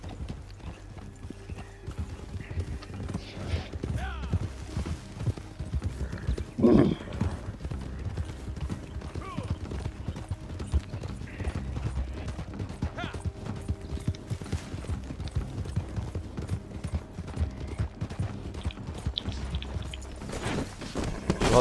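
Horse hooves clip-clop in a steady rhythm through the Red Dead Online video game, with a brief whinny partway through, set against low game ambience and occasional voices.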